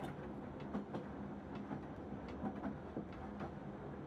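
Train rolling on rails, a quiet steady rumble with soft rhythmic clicks of wheels over track joints, distant and faint.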